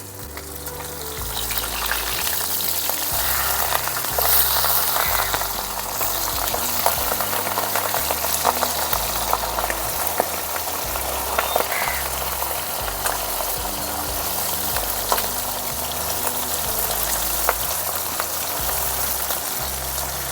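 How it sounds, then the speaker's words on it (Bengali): Pabda fish fry in hot oil in a wok, a constant close sizzle with bubbling crackle and occasional sharper spits, steady for the whole stretch. "মাছগুলো ভেজে নিচ্ছি।"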